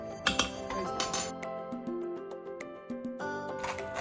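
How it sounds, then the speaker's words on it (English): A spoon stirring vegetable soup inside a metal Instant Pot makes light clinks and ringing taps against the pot, a few sharp knocks at first and then softer scraping touches, quiet and close. "Give it a quick stir. I'm giving it a quick stir."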